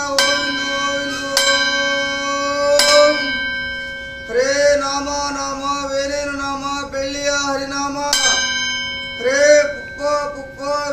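A bell rings loud and clear, struck a few times with long ringing tones, while a voice chants melodically in between.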